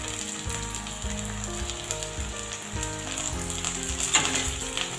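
Chopped green chillies and onion sizzling in hot oil in a pan, a steady close frying hiss with crackles and occasional stirring clatter, no voices.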